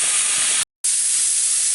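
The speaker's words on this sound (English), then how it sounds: "We want a steady stream coming out of there of steam." Steam vents steadily from a National No. 7 pressure cooker, a loud continuous close hiss broken by one brief silent dropout.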